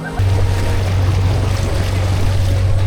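A tourist safari boat motors along the Madu Ganga river in Sri Lanka, its engine a loud, steady low drone with wind and water rushing over it, starting abruptly and running unbroken throughout.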